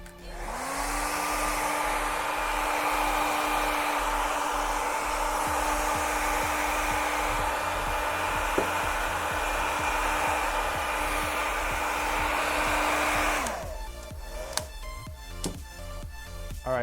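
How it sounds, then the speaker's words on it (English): A hair dryer blows steadily on freshly airbrushed white paint on a custom hat, a loud, even roar lasting about thirteen seconds before it cuts off, followed by a few small clicks and handling sounds. "and then I'll blow dry it."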